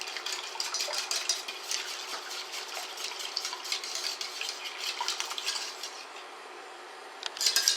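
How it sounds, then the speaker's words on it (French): Lemon tart mixture stirred in a saucepan as it heats toward a boil, a soft continuous scraping and swishing with light clinks of the utensil against the pan, close and steady, no talking. "on mélange et on fait venir le tout à ébullition"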